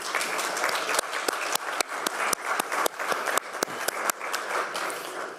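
Sustained applause fills the hall at the FIDE General Assembly as delegates vote in favour of a proposal, many hands clapping together in a dense, steady roar with a few sharper claps standing out.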